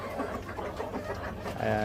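Omani chickens on a farm in the morning give short, low clucks and murmurs close by, with faint background noise.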